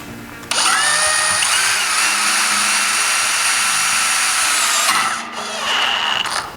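Power driver sinking an 8 3/4 inch painted screw to attach a bracket to a rail, a loud close whine that holds for about four seconds and then winds down, briefly resumes, with no voices.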